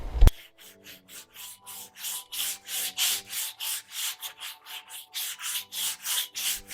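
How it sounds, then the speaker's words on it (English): Fine-grit flexible sanding block rubbing back and forth over a Mazda RX-7 dashboard, a steady run of about twenty rhythmic, close, scratchy strokes, alone after a brief knock at the start. "I'm going to use this fine grit sanding block that's kind of malleable"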